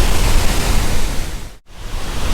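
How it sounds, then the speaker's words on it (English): Victoria Falls (Mosi-oa-Tunya) roars from its lowest cascade at the far end of the chain, a loud, steady wash of rushing water heard close by, with one brief dropout before the roar resumes. "So this is sort of like the lowest waterfall at the far end of the flight of waterfalls."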